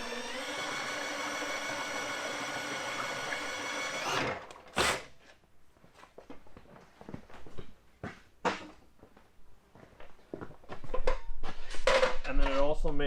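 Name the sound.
drill mixing primer with agitator lid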